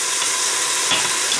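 Ground meat seasoned with herbes de Provence fries and gets stirred in a pan, giving a loud, dense, continuous sizzle up close with small scraping bursts, and no talking over it.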